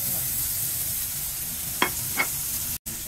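Onion frying in hot oil while cooking adobong beans, a steady broad sizzle throughout with two brief stirring scrapes, close and continuous.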